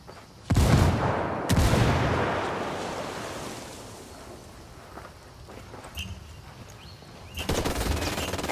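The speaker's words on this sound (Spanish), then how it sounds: "Lanzo una. ¡Granada!" A grenade blast in Ghost Recon Wildlands rings out as two sharp, loud bursts near the start, then a long rumbling decay, with another heavy burst of explosive noise near the end.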